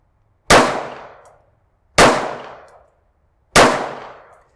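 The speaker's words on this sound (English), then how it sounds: "Let's shoot a couple more singles." Three single shots from an M&P 380 Shield EZ pistol at an outdoor range, each a sharp loud crack with a short ringing decay, evenly spaced about a second and a half apart with no talk.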